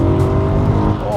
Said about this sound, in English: The experience in the E92, because I've got the coupe, is completely dominated by the V8.